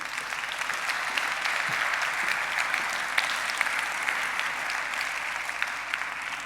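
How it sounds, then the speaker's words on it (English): An audience at a European award ceremony for freedom of expression gives sustained, even applause, a dense crowd of clapping hands that holds steady throughout without talk. "An applause, please."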